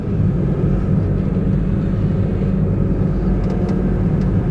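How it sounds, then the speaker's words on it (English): Case Puma 240 CVX tractor reversing toward a trailer, a steady loud low engine rumble running throughout with no breaks, close and alone with no talk. "So now I want to reverse up to the trailer."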